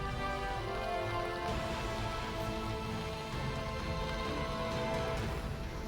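Heavy rain pouring down around a flooded office building, a steady, even hiss of downpour that stays constant throughout, with no voices.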